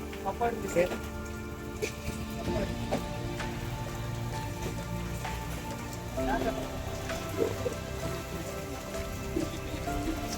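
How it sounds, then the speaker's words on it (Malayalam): Steady heavy rain hisses and patters throughout, with faint voices talking underneath. "നല്ല മഴയാണ്, നല്ല മഴ"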